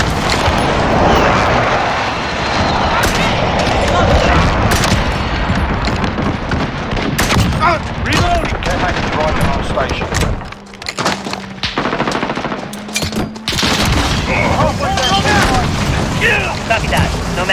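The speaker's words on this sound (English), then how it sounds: "Be advised, friendly precision airstrike inbound." Heavy explosions from a precision airstrike rumble through Call of Duty: Modern Warfare team deathmatch play, with dense layered booms and gunfire mixing in a loud, continuous din and radio voices sounding over it.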